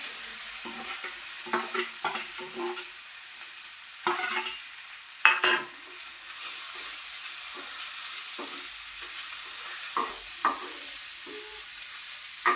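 Ginger and chopped onion fry in a pan, giving a steady close sizzle. Scattered scrapes and clinks come from the stirring, and no voices are heard.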